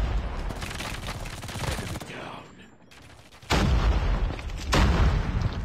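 Rapid bursts of MG42 light machine gun fire in a ranked shooter video game, loud dense rattling volleys that pause briefly and then resume even louder, with explosive booms mixed in.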